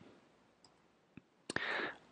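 Mouse clicks on a button in warehouse management software: a few small sharp clicks spaced irregularly, followed by a brief brighter burst, all faint against a quiet room with no speech.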